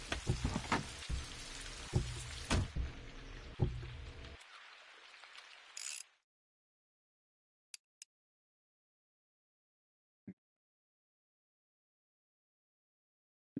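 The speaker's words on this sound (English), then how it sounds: "I was sitting in the truck because it's pouring rain." Pouring rain in the Alaskan Road Truckers video game, heard from inside a truck, drums steadily and densely for about six seconds, then cuts off abruptly, leaving near silence with a few faint ticks.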